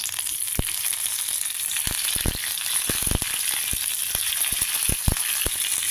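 Curry leaves and a broken chilli hit hot tempering oil with urad dal, cumin and mustard seeds, giving a steady crackling sizzle with sharp pops and occasional spoon taps, close and fairly loud throughout.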